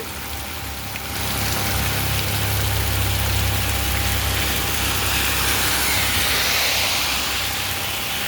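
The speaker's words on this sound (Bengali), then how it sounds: "মাশাআল্লাহ অনেক সুন্দর বৃষ্টি হচ্ছে" Steady heavy rain pours down on an afternoon north of Eklashpur market in Begumganj, Noakhali, a dense even hiss that swells in after the first second and holds loud and continuous to the end, with no voices.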